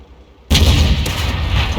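Artillery round striking a tank in a World of Tanks-style battle: after a quiet half-second, a sudden loud explosive boom erupts and rolls on as a sustained rumbling crash.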